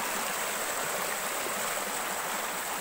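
Jawili Falls in Tangalan pours in a steady, dense rush of falling water and stream flow, close and continuous with no breaks and no voices.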